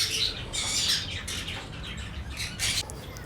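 Cockatiels at a bird breeding farm give several bright, shrill chirps and squawks in quick bursts, close by and fairly loud, over a low background murmur.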